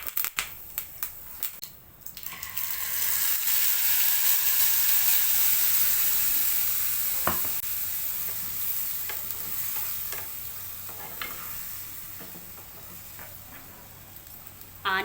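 Mustard seeds, cumin and curry leaves hit hot oil for tempering and erupt into a loud, crackling sizzle that holds strong and then slowly fades, with a few utensil taps along the way.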